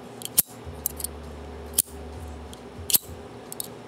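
Three sharp snips from a poorly working cutter that catches, a few brittle clicks and catches between them, close up with a low hum underneath.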